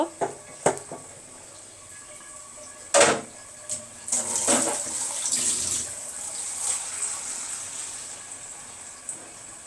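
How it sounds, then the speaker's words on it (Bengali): Water poured into a pot of fully cooked lentil dal makes a sustained splashing rush in the middle, with a few sharp utensil clinks and knocks before it and a soft clatter near the end. "আমি ডালে পানি দিয়ে দিলাম"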